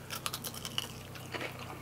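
Crunchy breaded fried chicken wings being bitten and chewed close up at a restaurant, soft crisp crackles in a short quiet burst with no talking.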